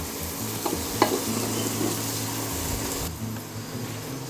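Whole spices frying in hot oil in a pan, stirred until the oil separates, giving a steady close sizzle with a few soft scraping clicks and no voices.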